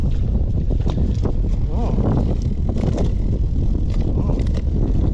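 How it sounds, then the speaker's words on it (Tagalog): Strong wind blowing across an open sea around a small fishing boat, a steady roaring rush of wind noise on the microphone with water and hull sounds beneath, while someone speaks briefly. "Kasi ang lakas ng hangin dito, grabe."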